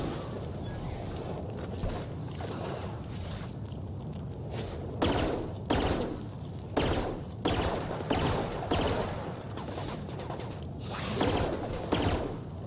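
Shotgun blasts in The Outer Worlds, a run of sharp, loud bursts fired in quick succession over a low game backdrop, with several shots clustered close together.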